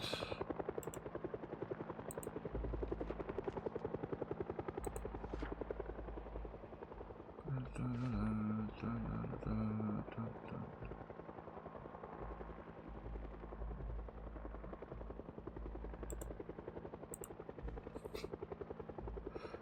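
In the survival game Project Zomboid, a helicopter drones overhead with a steady, fast rotor chop throughout, heard over a low ambient bed with brief game sounds in the middle.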